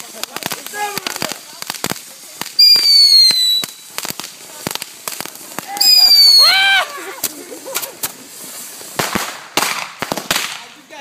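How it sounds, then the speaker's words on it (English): Fourth of July fireworks crack and burst close by, with two loud, sustained whistling shells ringing out among sharp pops and crackles while people shout and talk around them. "There you have a firework!"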